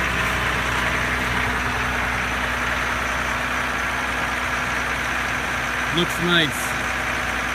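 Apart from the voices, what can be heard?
2015 Ram 1500 EcoDiesel engine idling after cold start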